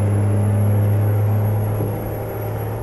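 Truck engine in American Truck Simulator during a truck race, a steady low droning hum at moderate level with a slight dip toward the end, heard alone without talk.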